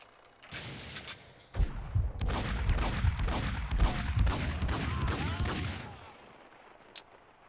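Sustained gunfire in Max Payne 2: a dense, loud burst of rapid shots runs for about five seconds, then stops, followed by one lone shot a moment later.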